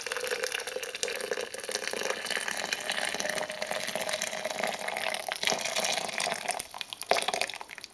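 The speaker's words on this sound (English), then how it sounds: "I'll be pouring the hot water." Hot water pours steadily over dark roast coffee grounds as coffee is being brewed, a continuous close splashing and trickling stream that lasts throughout with slight variations.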